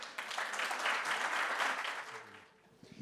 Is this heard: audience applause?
yes